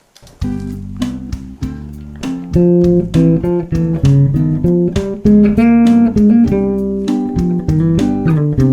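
A bass guitar plays a steady run of distinct plucked notes on the Lydian dominant scale, climbing and falling at a moderate pace, clear and close.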